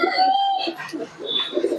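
A young black jiriya Naptha pigeon chick gives soft, wavering coos and small chirps close by, in a short run of uneven calls.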